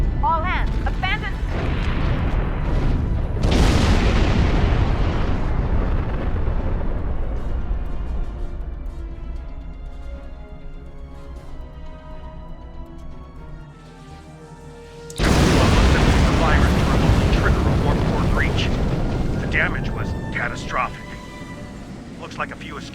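Huge explosion in the video game Star Trek Online, two massive roaring blasts with long rumbling decays about twelve seconds apart, with spoken dialogue and game audio around them.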